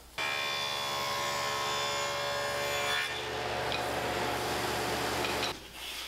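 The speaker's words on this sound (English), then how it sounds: "dado stack set up in my table saw with the fence set ready to go" Table saw fitted with a dado stack cutting through wood, a loud steady whirring drone with a dense rough cutting texture through the middle, then a brief spin-down at the end.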